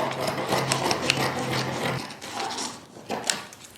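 Scissors or shears cutting knit fabric around a pinned pattern, close scraping and rustling snips that run continuously, then come in a few shorter bursts.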